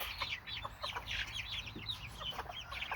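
Several chickens in a pen, kept for eggs and including a bird thought to be a meat breed, give steady, overlapping clucks and soft squawks close by, with no talking.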